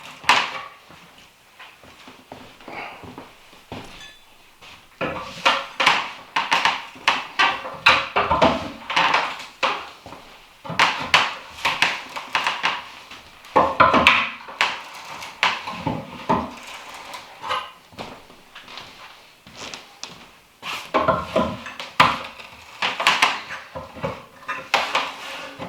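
Old wood boards creak and clack as coated nails are pried up by hand, in irregular bursts of scraping, knocking and squeaking with short pauses between pulls.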